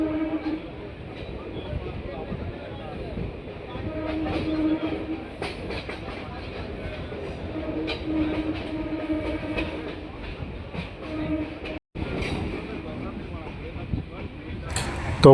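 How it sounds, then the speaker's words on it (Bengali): A local commuter train runs between Majerhat and Barasat near Patipukur station, heard from inside with a continuous rumbling rattle and rhythmic clickety-clack of wheels over rail joints throughout. "বন্ধুরা, আমাদের ট্রেন এসে পৌঁছালো পাতিপুকুর।"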